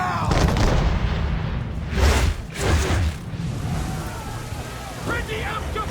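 Musket volley in Assassin's Creed III, heavy booming shots with a rushing roar that crash out and fade across the scene, mixed with shouted commands and battle noise.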